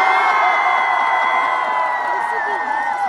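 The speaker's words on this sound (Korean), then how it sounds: "1층 함성 시작!" A stadium concert crowd on the first floor cheers and shouts loudly and continuously, a dense roar of many voices with whoops at a large outdoor music event.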